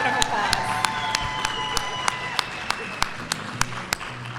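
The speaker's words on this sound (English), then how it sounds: "she needs a round of applause" An audience at a Westlake Founders Day event claps for Tina, with sharp, evenly spaced claps standing out over a softer crowd patter and murmur.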